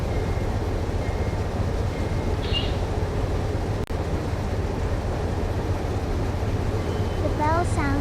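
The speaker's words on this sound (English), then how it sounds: "A big diesel roar and the wheels humming." In a train simulator game, a diesel locomotive engine drones low and steady while the wheels hum along the rails. The rumble is continuous and moderately quiet, with a brief click and a faint bell-like chirp near the end.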